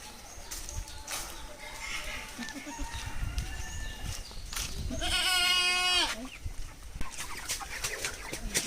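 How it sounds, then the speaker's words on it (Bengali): Farm animal calls over a busy din in a 300-square-foot poultry farm, including a rooster-like crow midway and scattered bleats and clucks, with faint voices in the background. "এটা হচ্ছে আমার 300 স্কোয়ার ফিটের একটি মুরগির খামার"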